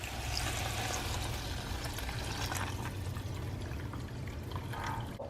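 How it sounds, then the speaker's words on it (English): Four cups of water are poured into a cooking pot, making a steady, soft, continuous rushing splash that runs unbroken for several seconds. "Now I'm gonna add my water."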